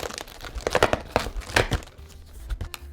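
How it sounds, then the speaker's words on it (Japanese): Close, crisp crinkling and tearing of plastic packaging as a box of Genshin Impact wafers is opened, a few quick bursts of rustling over about three seconds with no talk. "早速2箱目を、開封していきたいと思います。"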